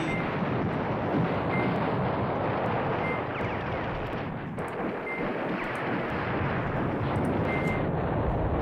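An artillery barrage in the Command Ops 2 video game rumbles as a steady, dense wash of distant explosions, a constant low roar without distinct separate blasts.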